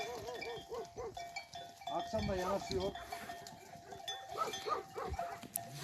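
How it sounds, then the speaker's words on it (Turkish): A flock of sheep and goats bleat repeatedly while being herded home in the rain, with a man calling, a dog barking, and a faint bell clanking. "Koyunu artık eve doğru yönelteceğiz."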